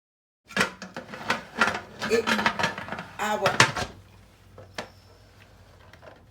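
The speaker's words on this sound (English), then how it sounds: "now we will get ready to put our lid on" Heavy metal clanks and scrapes as the lid goes onto a pressure canner in a home-canning workshop, a run of knocks and rattles that thins into a few quiet taps and a faint metallic ring.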